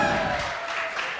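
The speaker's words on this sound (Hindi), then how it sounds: "तुमसे ताली बजाने का बहुत शौक है तुम्हें" Students in a classroom clap together in a short, dense burst of applause that fades slightly over about a second.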